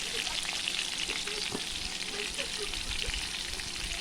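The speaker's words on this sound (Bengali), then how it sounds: "তো এখন আমি ভেজে নিচ্ছি" Crab legs coated in turmeric, chili powder, spice powder and salt frying in a pan, a dense steady sizzle with soft crackles and faint spattering throughout, no talking.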